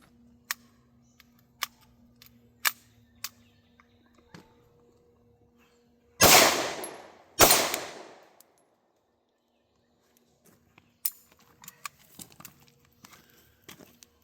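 Hi-Point C9 pistol firing Golden Saber hollow-point rounds outdoors: two loud, sharp shots about a second apart, each with a long echoing decay, among scattered faint clicks and clanks.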